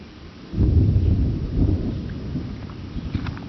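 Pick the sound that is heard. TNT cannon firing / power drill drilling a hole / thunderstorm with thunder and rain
thunderstorm with thunder and rain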